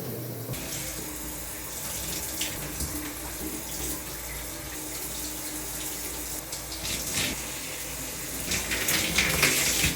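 Tap water runs steadily and loudly into a sink or tub while oil is washed out of hair, a continuous close splashing hiss throughout with slight swells near the end.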